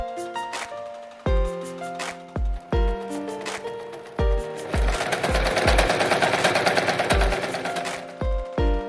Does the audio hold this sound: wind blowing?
no